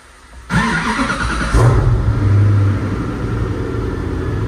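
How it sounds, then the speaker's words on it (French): Supercar in a Dubai collection: a loud starter crank catches into a booming engine start, settling into a deep, steady idle rumble close by. "Ça m'a fait peur tellement ça a fait du bruit le démarreur."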